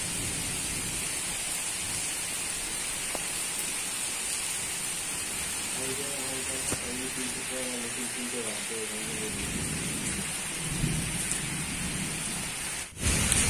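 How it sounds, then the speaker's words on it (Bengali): Steady heavy rain pours throughout, a dense continuous hiss with a brief tonal sound partway through and a soft thump near the end. "এখন ঝমঝম করে বৃষ্টি পড়ছে"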